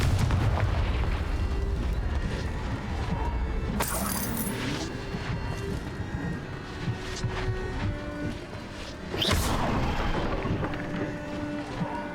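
Booming blasts from the Confringo fire spell in the video game Hogwarts Legacy, a heavy rumbling explosion with debris crackle, then a second burst later over a continuous low roar of game ambience.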